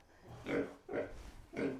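A sow lying down on a small farm grunts three times in a slow, evenly spaced rhythm, each grunt low and close, at moderate volume with no talk.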